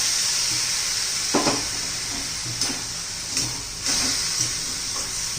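Grated fresh coconut cooks in a pan as a little milk is poured in, making a steady, bright sizzle broken by several short scraping stirs.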